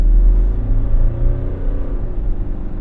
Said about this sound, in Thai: ลองกดคันเร่งไปนะ